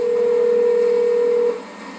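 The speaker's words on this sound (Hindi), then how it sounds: "फोन की घंटी बजती रही" A telephone call to a helpline goes unanswered: a single steady ringback tone holds for about a second and a half, then cuts off into quiet line hiss, with no voices.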